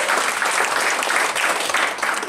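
A church congregation claps steadily and loudly together, a dense continuous wash of hand claps filling the room with no voices standing out.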